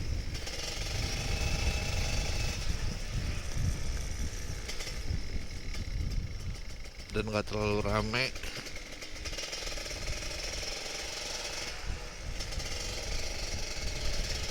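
A Kawasaki Ninja RR 150 motorcycle engine rumbles steadily and loudly up close throughout, with someone speaking briefly over it partway through.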